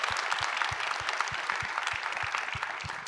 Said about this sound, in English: Please join me giving them a wonderful and loud round of applause.